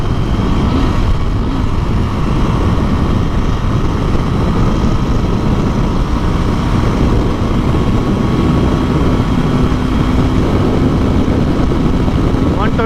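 A Jawa 42 motorcycle at top speed in sixth gear, a loud, steady engine drone under heavy wind rush that stays constant throughout.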